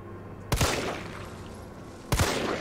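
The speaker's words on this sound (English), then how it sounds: "And you can shoot right through the gate" Two separate gunshots ring out through a gate in the Resident Evil 3 demo, about a second and a half apart, each a sharp crack with a short tail over a quiet low hum.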